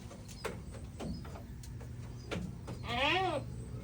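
A single short goat bleat near the end, wavering and moderately close, after a few clicks and knocks over quiet background noise.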